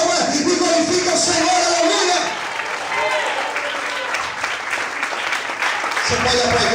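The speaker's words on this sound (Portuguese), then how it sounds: "Se você quer, bate palma e glorifica o Senhor." Church congregation applauding during a Portuguese-language sermon, a steady dense wash of clapping mixed with voices and crowd noise throughout.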